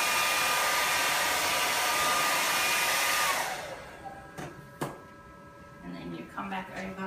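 A hair dryer blows loud and steady to heat-dry a blood smear sample, then cuts off after about three and a half seconds, leaving quiet room noise with a few faint clicks and handling sounds.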